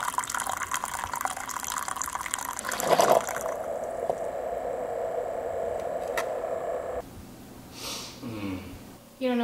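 A Keurig coffee maker dispenses liquid in a steady pouring stream that stops partway through, followed by quieter gurgles and drips. Faint voices can be heard nearby.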